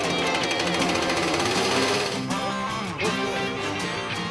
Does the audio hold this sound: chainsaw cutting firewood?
yes